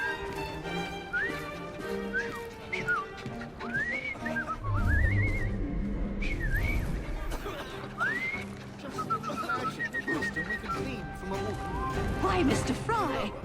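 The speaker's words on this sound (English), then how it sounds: "I've just learned to whistle." Whistling in the Assassin's Creed Syndicate video game, a series of rising and falling whistled notes repeated across the clip, mixed with game sounds, background music and people talking.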